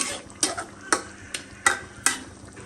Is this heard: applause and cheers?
no